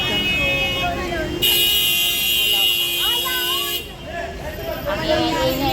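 Car horns honking in heavy street traffic: sustained blaring horn tones and shorter toots layered over crowd noise and traffic rumble, with people talking nearby.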